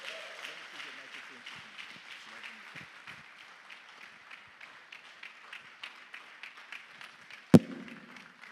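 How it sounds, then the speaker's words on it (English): An audience in an assembly hall applauds the chairman at a food system resilience programme launch, with scattered claps under a speaking voice early on, then a thinning rhythm of individual claps and one sharp loud knock near the end. "Please, let's give him a round of applause."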